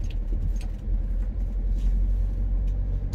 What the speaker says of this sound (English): headed back down the track, hoping my van would actually make it all the way